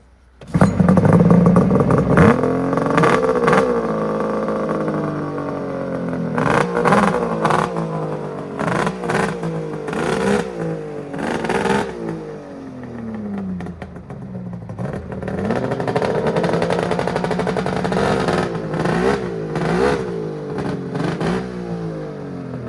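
A 1993 Kawasaki Thundercat motorcycle with freshly cleaned carburetors and new plugs cranks and fires up, then revs repeatedly in rising and falling bursts between rough idle stretches, close and loud throughout.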